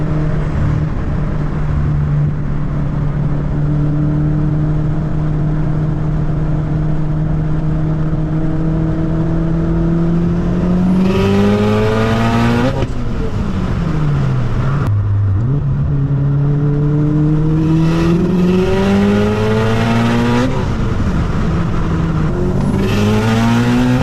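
A big-turbo Subaru STI engine climbs through repeated hard accelerations with gear shifts between them, loud and close, with brief sharp pops from the exhaust as the revs drop.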